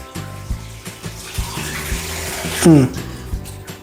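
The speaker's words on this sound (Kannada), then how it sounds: "ಸೊ ನೋಡ್ತಿರ್ಬೋದು ಫಿಶ್ನ ತೊಳ್ಕೊತಿದ್ದೀವಿ." Fish being washed under running water in a kitchen for curry, a steady trickle with small splashes and handling knocks, plus a brief louder gush near the end.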